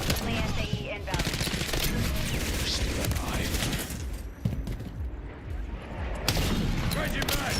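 Call of Duty Modern Warfare III multiplayer gunfire on a Tokyo map, with dense, continuous automatic bursts layered with game radio voices and chatter, loud and busy, easing briefly before resuming.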